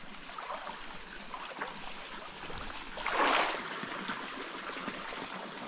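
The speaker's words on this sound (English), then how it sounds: "So there's some fresh drinking water right there." Fresh drinking water trickles and splashes softly in a small stream in remote Cape York, Australia, a steady gentle babble that swells briefly in the middle.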